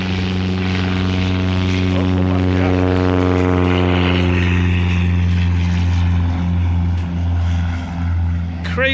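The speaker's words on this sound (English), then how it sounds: "So one crop duster just landed, another one's taking off." A propeller-driven crop duster airplane takes off at a small airport, a loud sustained buzzing engine drone with a steady pulsing tone and shifting pitch, heard alone without talk.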